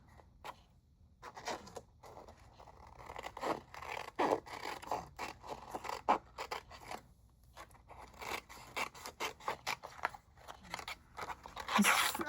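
Scissors cut lemon lime glimmer paper freehand in quick bursts of crisp snipping and crunching, close and fairly faint, with short pauses between runs of cuts.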